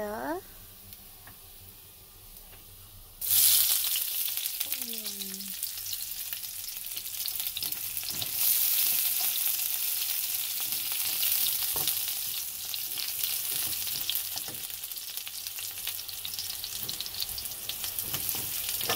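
Onions frying in a pan with garlic, a loud steady sizzle that bursts in after a few seconds of quiet kitchen sounds and keeps crackling, with occasional utensil stirs and scrapes, no talking.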